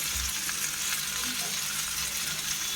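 Spiced potatoes for aloo dum sizzle steadily in a karahi as they are sautéed and stirred with fried spices, giving a close, even crackle with faint scraping and no talk.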